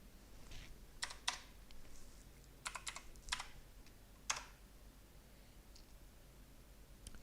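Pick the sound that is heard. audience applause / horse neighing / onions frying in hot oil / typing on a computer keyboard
typing on a computer keyboard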